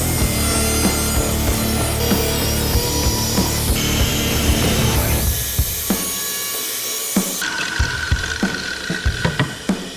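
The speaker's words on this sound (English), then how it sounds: "So after cutting a piece out of the firewall" A power cutting tool grinds and rasps through a car firewall on a 1970 Triumph Spitfire MK III, loud and close, then drops away into clanks and scraping of metal with a brief high whine near the end.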